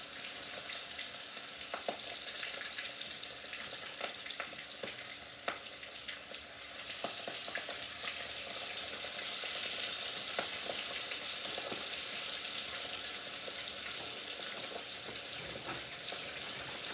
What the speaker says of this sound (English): So while the fish are frying